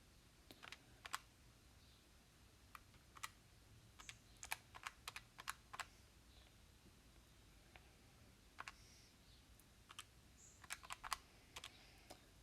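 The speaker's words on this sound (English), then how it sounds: "Type that into your calculator, which I'm doing off on the side here." Numbers are tapped into a calculator with quick, light plastic key clicks, faint and close. They come in short irregular clusters with pauses between them and no voice.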